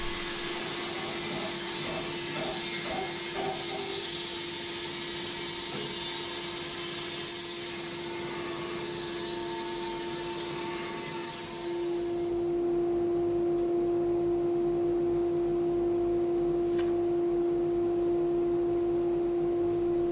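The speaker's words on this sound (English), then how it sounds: "So finally I can start milling." A Wood-Mizer LT15 sawmill saws through a large spruce log, a loud, steady engine drone with a strong hum and a rasping cutting noise that stops partway, leaving the machine humming alone.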